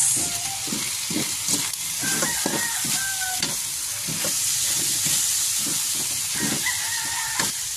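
Ground pork giniling sizzling and frying in a pan while a spoon stirs it, steady close sizzle with repeated rhythmic scraping strokes and occasional faint tones in the background.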